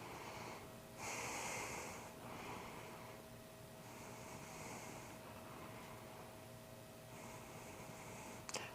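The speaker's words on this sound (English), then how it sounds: "notice how the sound gets quieter because I'm not going as forceful with my breathing" Forceful rhythmic breathing during a chest and abs exercise, close and breathy, with strong airy exhalations in repeated bursts that fade to quieter breaths toward the end.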